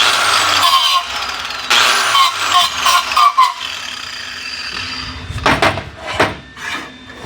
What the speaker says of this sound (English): Turn my grinder on.